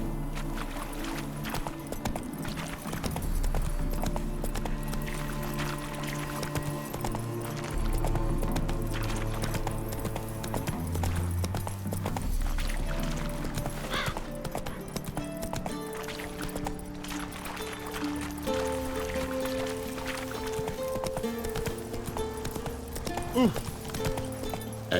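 In The Witcher 3: Wild Hunt, the horse Roach gallops in a steady, rapid clip-clop of hooves over a game music score, continuing throughout.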